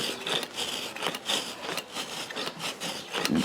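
Steel rasp trimming excess sole and hoof wall on a laminitic horse's hoof, a continuous run of close, scratchy strokes that repeat in a fairly steady rhythm with no one talking.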